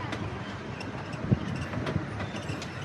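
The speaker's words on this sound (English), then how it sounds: "The locomotive pulling our train today is a very detailed 1/3 scale replica of a famous steam train called the C.P. Huntington." Riding behind a 1/3 scale replica of the C.P. Huntington steam locomotive at a park railroad in Irvine, California: a steady rumble of rolling cars with a few rail clacks and light wheel squeal.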